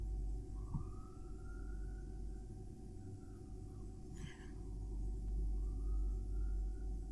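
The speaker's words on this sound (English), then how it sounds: "there's a siren coming down the road" An emergency vehicle siren wails faintly along a road in the distance, rising and falling in slow sweeps over a low engine rumble.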